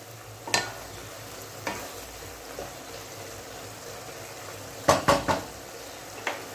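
A spoon stirs bottle gourd with poppy seed and turmeric in a pan, giving sparse scraping knocks against the metal and then a quick cluster of three clatters near the end over a soft sizzle, close and alone.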